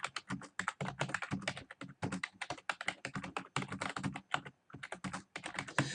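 Fast, continuous typing on a computer keyboard, close and clear, dense key clatter in bursts with brief pauses, no voices over it.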